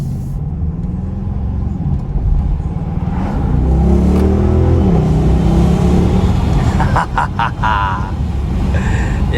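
A 591 hp 2021 Audi RS Q8 accelerates hard uphill through hilly roads with the windows slightly open, its engine rumble rising and swelling steadily throughout, heard from inside the cabin with no talking.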